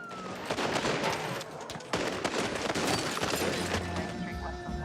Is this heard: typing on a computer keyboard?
no